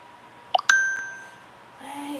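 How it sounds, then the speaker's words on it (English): A phone notification ding from a group chat rings out as a bright two-tone chime, with a short sustained tone that fades over a second, heard close and alone in a quiet room. "Why is my phone yelling at me again, guys?"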